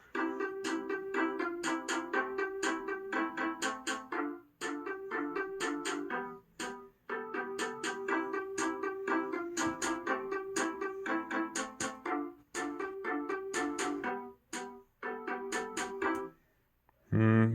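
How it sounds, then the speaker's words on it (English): Short melody phrase repeated over and over in Chrome Music Lab Song Maker, bright synthetic plucked notes in a steady looping rhythm with brief pauses between repetitions, clear and alone without talk. "I'm repeating this little melody phrase, but only on 2 beats."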